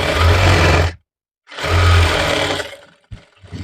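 A sewing machine stitches a prince cut blouse, running loud and close in two steady whirring stretches separated by a brief silent pause, then slowing into a few short, uneven bursts.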